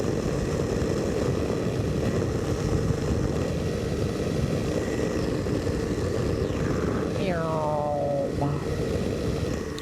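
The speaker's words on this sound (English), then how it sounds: "My engine did a little sputter just now, kind of went brr, brr, like that." A two-stroke ultralight aircraft engine drones loud and steady in flight through cold air, a dense close propeller roar that wavers briefly near the end.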